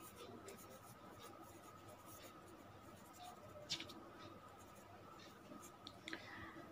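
Math gets written on a board in a classroom lesson, producing faint scratchy strokes and taps amid quiet room tone, with a teacher speaking at times.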